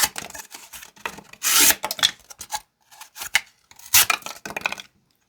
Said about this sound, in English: let's finish up with cutting some cardboard.